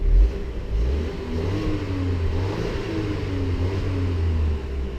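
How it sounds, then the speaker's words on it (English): A 2016 Volvo XC90 with a 2-litre engine revving while stationary, a steady mid-pitched engine note rising and falling through a few smooth blips, close and fairly loud. "it feels powerful even just revving it like that"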